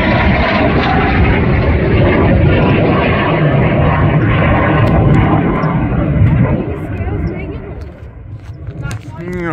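Low-flying jet aircraft passing over near the Lake District, a loud sustained roar that fills the clip for about six seconds before fading as it moves away, heard outdoors from beside a van.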